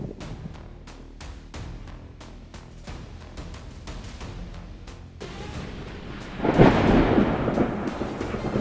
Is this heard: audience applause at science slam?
no